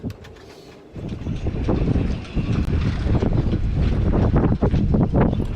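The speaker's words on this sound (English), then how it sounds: "You can hear all the halyards clinking, the wind screeching around the masts." Gusty wind roars around sailboat masts in a harbour beside a 50-year-old Pandora International yacht, loud and blustery against the microphone, with scattered sharp clinks of halyards throughout after a quieter first second.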